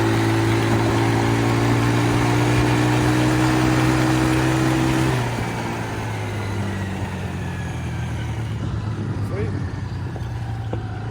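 A four-wheeler ATV engine idles and revs on a test ride, its steady droning hum shifting pitch as the throttle changes, with a person talking over it.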